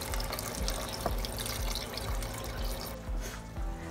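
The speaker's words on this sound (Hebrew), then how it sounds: "הוספתי עוד כוס מים," Water poured from a cup into a pot holding beets, a steady close splashing and gurgling stream that thins toward the end, with no talking.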